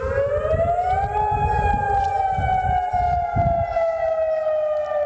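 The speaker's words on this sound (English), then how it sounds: "The night sky echoed to the sound of sirens." A loud wailing air raid siren in Tel Aviv at night holds a long, steady rising-and-falling tone, with deep rumbling noise pulsing underneath and no voices.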